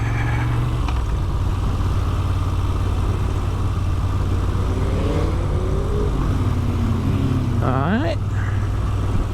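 A CFMoto 450 MT motorcycle is out on a road near Sedbergh. A steady engine drone runs throughout, and a brief rising engine whine sweeps up near the end. One short word is spoken.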